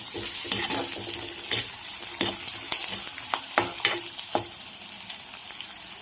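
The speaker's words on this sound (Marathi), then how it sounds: "त्यासोबत मी कढीपत्ता, बारीक चिरलेला कांदा, छान असं गुलाबी रंग येईपर्यंत मी कांदा परतून घेते" Finely chopped onion with curry leaves and cumin seeds fries in hot oil for a Marathi brinjal curry, a close, steady sizzle broken by repeated sharp scraping stirs of a spatula against the pan.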